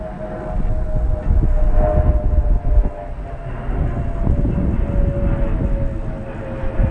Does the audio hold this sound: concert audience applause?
no